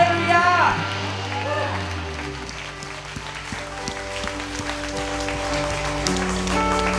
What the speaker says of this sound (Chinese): 将最大的掌声献给我们的主耶稣